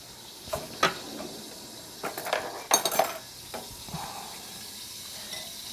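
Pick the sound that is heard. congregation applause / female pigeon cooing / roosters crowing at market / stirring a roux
stirring a roux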